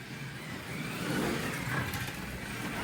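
A 1/24 scale Monkees Mobile slot car runs on its track with the roof removed, giving a steady whirring motor drone with a slight rise partway through.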